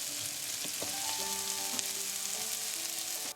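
Onion, vegetables and sausages sizzle steadily in a frying pan for tomato-based Napolitan spaghetti, a dense continuous hiss with occasional light clinks from stirring.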